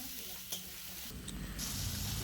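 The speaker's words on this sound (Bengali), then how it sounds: "এবারে এগুলো সব কিছু দিয়ে ভালো করে নাড়াচাড়া করে নেব" Potatoes and pointed gourd fry in spices as they are stirred together, producing a soft, steady sizzle with a brief scrape or two, fairly quiet and close.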